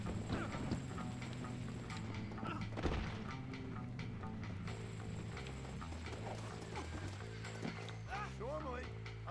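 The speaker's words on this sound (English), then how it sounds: "Stupid horse got in the way." Horse hooves clip-clop in Red Dead Redemption, a steady trotting patter under game music and sound effects, with a brief whinny near the end.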